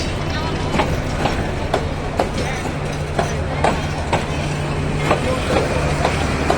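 A crowded passenger train passes close by at the Joydebpur railway gate, with a loud continuous rumble and a regular clickety-clack of wheels over rail joints throughout.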